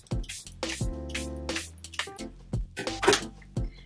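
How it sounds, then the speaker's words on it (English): Charlotte Tilbury Airbrush Flawless Setting Spray is misted onto a face, several short, close hissing spritzes with small clicks and handling noises between them, fairly loud, with no talking. "So I'm setting my face with a setting spray first"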